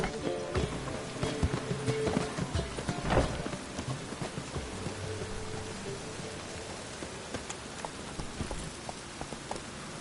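Roach, the horse in The Witcher 3, gallops through rain with rapid clip-clop hoofbeats over a steady rain hiss, while someone speaks briefly over the sound.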